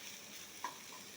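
Amaranth leaves stir-fried in a pan, a low steady sizzle with one faint scrape of a spatula midway, quiet and without talk.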